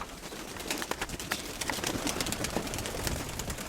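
Pigeons coo at an outdoor bird fair, soft low cooing amid a busy crackly background with scattered clicks and rustles, fairly quiet and without talking.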